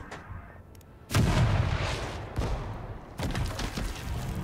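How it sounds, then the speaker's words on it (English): Artillery fire in the video game Total Tank General, Moscow counter-offensive in a Soviet campaign: three heavy booming blasts about a second apart, loud and close, each trailing into a rumbling roll over low background noise. "Next, artillery."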